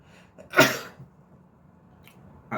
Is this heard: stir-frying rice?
no